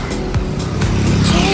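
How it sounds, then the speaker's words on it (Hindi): Cars and motorbikes speed past loudly on a Delhi street in the early morning, engines revving close by with sharp whooshes as each vehicle passes, a continuous traffic roar. "सारे बंदों को गाड़ी निकालनी है इतनी तेज़ी से आवाज़ करते हुए"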